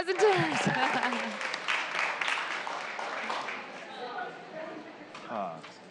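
An audience at a Seattle City Council committee meeting claps for a presenter, a dense burst of applause that starts loud alongside a voice and cheering, then thins and fades over several seconds.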